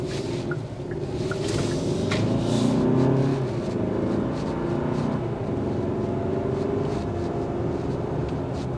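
A 2024 Hyundai Santa Fe XRT SUV accelerating, its engine note rising steadily under a constant hum of road and tyre noise, heard from inside the cabin with no talking.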